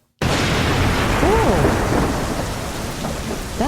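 A thunder sound effect: a sudden loud crack swells into a long, rolling rumble with a rain-like hiss, standing alone without speech.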